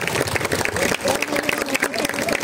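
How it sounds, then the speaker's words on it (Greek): Warm applause from the audience at a Pontic gastronomy festival in Thrylorio, Komotini, a dense, continuous patter of many hands clapping close by throughout. "θέλω ένα ζεστό χειροκρότημα σας παρακαλώ από όλους"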